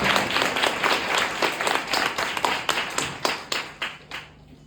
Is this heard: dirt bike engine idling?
no